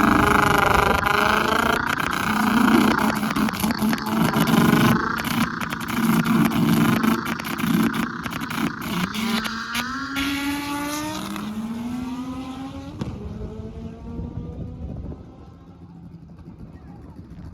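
Drag race cars launching and running an elimination round at PFI Speed Fest, engines roaring loud and sustained with rising pitch sweeps as they pull away, fading toward the end; talk runs underneath.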